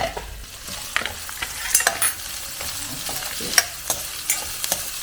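A tempering sizzles in a pan for a leafy greens palya stir-fry, a steady crackling hiss broken by repeated sharp metallic scrapes and clicks of a spatula against the pan.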